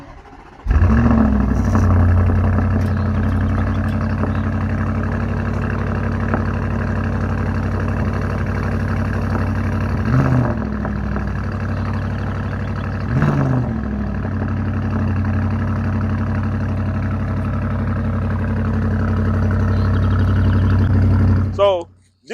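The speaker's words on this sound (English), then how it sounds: "I would like for you all to hear the exhaust note" An Audi SQ7 idles with a deep, steady exhaust rumble heard up close, broken by two short blips of the throttle before it cuts off abruptly at the end.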